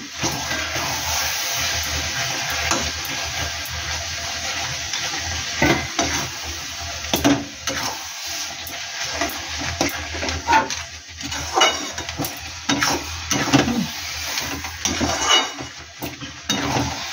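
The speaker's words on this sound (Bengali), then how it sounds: "আমি একটু গুড় মেশাচ্ছি" Jaggery is stirred into sour jujube pickle in a pan, giving a steady bubbling sizzle broken by repeated scraping and clattering of a spoon against the metal, close and continuous.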